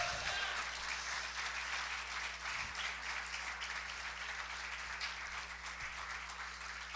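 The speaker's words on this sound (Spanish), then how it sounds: "Dale un aplauso a Cristo." A church congregation applauding during a sermon, sustained dense clapping from many people, fairly distant and even in level with a low hum underneath.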